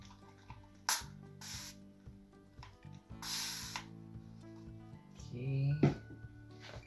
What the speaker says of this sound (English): Oh, I have a spray bottle here.